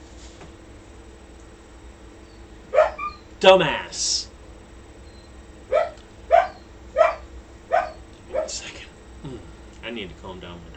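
A dog barks in a handful of sharp, separate bursts at moderate distance, spaced a second or so apart, while someone talks over and between the barks.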